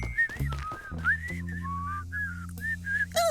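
Cartoon characters whistle casually in a light, wandering tune of short melodic phrases. Bouncy background music plays under it, and the whistling stays close and clear throughout.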